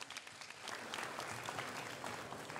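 Sustained audience applause at a Balinese village quiz show in Kukuh Marga, Tabanan, a dense steady wash of clapping that fills the whole stretch at even loudness.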